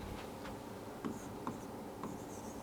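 Writing a definition by hand on a board or paper during a nervous system science lesson; faint scratchy strokes with a few soft taps, close but quiet, with no one speaking.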